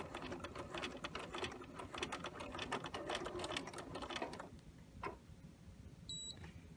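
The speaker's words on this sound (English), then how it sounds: "I'm going to back stitch to the top." Sewing machine back stitching along a zipper fly, running in a steady rapid chatter for several seconds before stopping, followed by a couple of faint clicks and a short beep.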